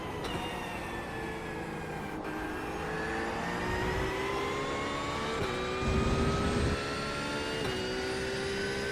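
LMP2 prototype race cars in iRacing howl past with high-pitched engines whose tones rise and fall as they pass, layered over the player's own engine drone and a brief louder rumble midway.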